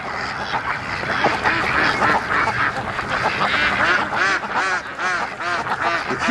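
A flock of free-range ducks quacks busily by a lake, many overlapping calls close and loud in a continuous chatter with no talking.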